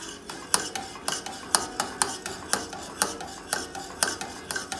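Custard and butter being whisked in a pan, with rhythmic metallic clicks of the whisk striking the pan about twice a second over a soft wet swishing, close and steady, with no voices.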